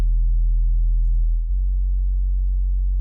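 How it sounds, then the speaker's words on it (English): A synth bass tone built from a triangle wave with light high-end distortion and a resonant boost around 84 Hz plays alone as a loud, sustained low note that shifts pitch once partway through. "It's just a triangle wave with a little bit of distortion in the high end and a resonant peak that has been boosted at about 84 Hertz"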